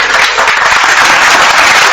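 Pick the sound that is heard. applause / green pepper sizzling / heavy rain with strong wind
applause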